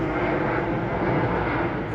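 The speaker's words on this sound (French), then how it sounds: "C'est l'avion du Maroc." A Moroccan airline airplane passing overhead in Algeria, a loud steady broadband roar of aircraft engines that fills the whole moment without fading, with no voices standing out.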